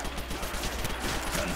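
Rapid bursts of gunfire sound during a Minecraft custom zombies match, dense crackling shots packed closely together in a short volley with no pause.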